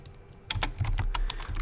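Computer keyboard keys tapped in quick irregular bursts, close and clear, with no talking over them; brief pauses between short runs of keystrokes while code is being entered.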